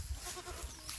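A goat bleats in a rural yard in Bangladesh, with short, close calls over low background noise and no talk.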